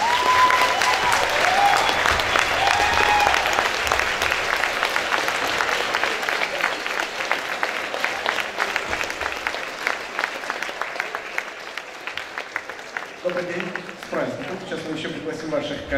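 Audience applause rings out at a faculty celebration as a dean is introduced, a dense steady clapping that carries through nearly the whole stretch, thinning slightly toward the end as a voice begins speaking over it.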